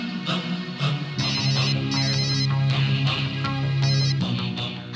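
A phone rings with a melodic electronic ringtone, a loud, close tonal pattern repeating in bursts with no speech over it.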